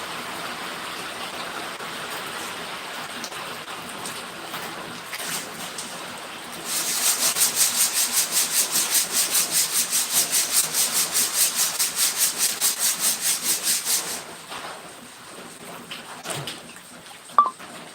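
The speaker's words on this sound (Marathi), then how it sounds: "जोरदार पावसाच्या सरी बरसत आहेत" Steady broadband hiss of heavy rain pouring down in Beed district, Maharashtra, growing louder and denser midway with a rapid pulsing texture, then easing back to a softer patter.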